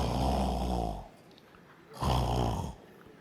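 A man imitates loud snoring with his voice in a comedy routine, giving two long rasping snore breaths separated by a short pause, close and prominent.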